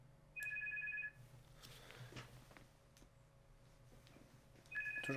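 Phone ringing during online chess play, with electronic ring tones in short bursts at the start and again at the end, heard faintly against quiet room noise.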